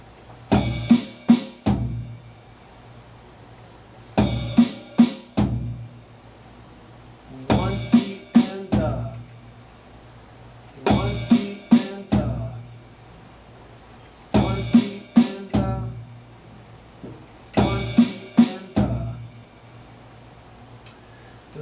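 Funk drum pattern with the bass drum isolated on beat one, repeating in six short bursts at steady intervals with silences between, each a punchy low kick with brief ringing overtones.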